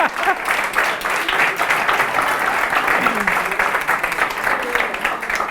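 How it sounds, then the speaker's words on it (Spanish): A room of audience members applauds at a public-speaking session, brisk uneven clapping that swells and holds steady, fairly close, with some voices mixed in. "Un aplauso para Juanjo en su papel de..."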